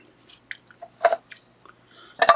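Close-up chewing of canned Deseret pork and beans mixed with Dennison's chili, with irregular wet bites and soft crunches spaced across a quiet background.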